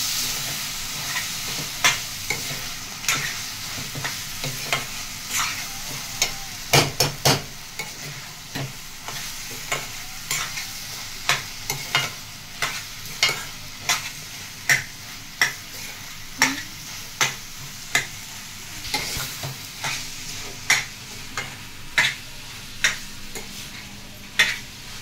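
Mutton and cucumber curry frying in a pan is stirred with a utensil, giving repeated sharp scrapes and taps against the pan about once a second over a soft, steady sizzle.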